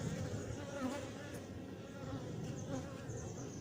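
Bees drone continuously around an opened queenless hive in Montgeron, a soft, even swarm hum at close range with faint passing wingbeats.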